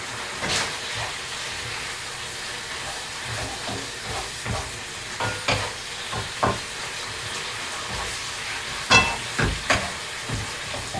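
An aubergine, basil and pork chili paste stir fry sizzles and hisses steadily in a pan, broken by scattered scrapes and clacks of the spatula.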